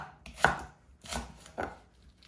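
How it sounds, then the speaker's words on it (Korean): Knife slicing green onions diagonally on a cutting board in a Korean home kitchen, three crisp separate chops spaced evenly, close and fairly quiet, no talking. "그래서 어슷어슷 썰도록 하겠습니다"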